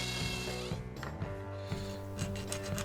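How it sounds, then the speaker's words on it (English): A large drill bit bores a hole for a tap handle fitting, giving a steady, close grinding whir with tonal motor hum and a few catches and shifts as the bit bites into the material. "I then use a much larger drill that matches the fitting"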